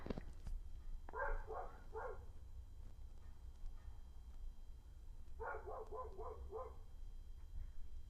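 A dog barks in two short bursts of several quick barks each, somewhat distant, over a low background hum.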